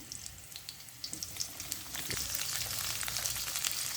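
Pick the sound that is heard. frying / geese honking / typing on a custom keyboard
frying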